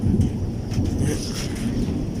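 Rain falls outdoors with a low rolling rumble of thunder, a loud continuous close wash of sound with no talk.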